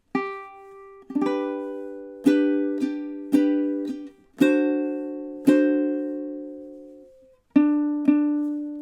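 Ukulele strumming measures 19 and 20 of a song: about nine bright, separate chord strums in a steady rhythm, each ringing out and fading, close and clear with no voices.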